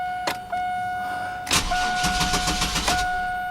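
A GMC Jimmy's starter cranks the dry engine over in a steady, rapid chugging rhythm without it catching, after a steady electronic chime tone sounds from the dashboard.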